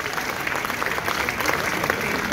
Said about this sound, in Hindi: समझे तो पीछे तक एक बार तालियां बजा दो